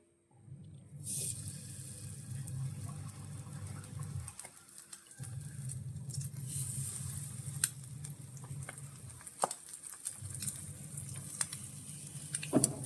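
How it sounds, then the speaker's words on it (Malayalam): Egg-dipped bread frying in a pan for French toast, with a low crackling sizzle heard close up in several bursts separated by brief pauses, plus light clicks and scrapes. "നമ്മുടെ ബ്രെഡ് നമ്മുടെ ഈ ഉണ്ടാക്കി വെച്ചേക്കുന്ന മിക്സിനകത്ത് മുക്കി നമുക്ക് ഇട്ട് കൊടുക്കും"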